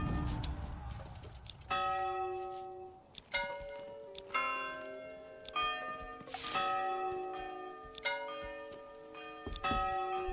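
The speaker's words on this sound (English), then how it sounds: "bells going off everywhere" Church bells in the medieval village-building game Manor Lords peal in irregular, overlapping strikes with long ringing tails, clear and unaccompanied by speech.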